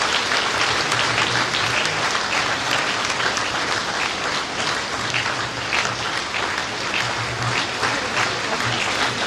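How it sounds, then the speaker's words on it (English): A large audience at a professional institute's induction ceremony keeps clapping, a loud, dense and sustained wave of applause that stays even throughout, with a faint low hum beneath. "Please keep clapping"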